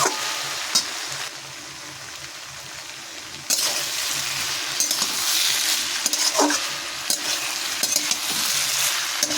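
Puti fish cooking in a covered pan over low gas, a steady close sizzle and bubbling that grows louder partway through, with occasional clinks of the lid or utensil and no talking.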